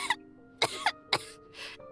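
Tonya, a character in the video game Genshin Impact, gives a series of short, close coughs and throat-clearing bursts, about four of them spaced roughly half a second apart, with no speech.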